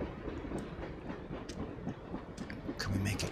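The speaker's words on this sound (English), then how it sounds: "There's the train." A train arriving in the adventure game Dreamfall: The Longest Journey, rumbling steadily with rhythmic rail clatter and sharper metallic clicks that get busier near the end, while someone talks over it.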